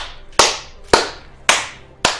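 Four sharp, loud hand claps spaced about half a second apart, close and alone, from a player applauding during an Apex Legends match.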